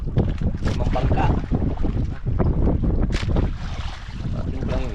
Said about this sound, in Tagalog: Oh, palakas ng hangin oh.